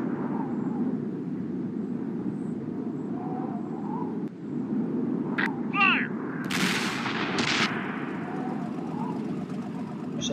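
Tank cannon fire in the World War II combat game World of Tanks, with several sharp blasts in the middle of the clip over a steady, loud rumble of engines and battlefield noise.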